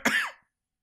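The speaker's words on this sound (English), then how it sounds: "you do a lot of coughing." A single short, close cough bursts out and trails off within half a second, followed by silence.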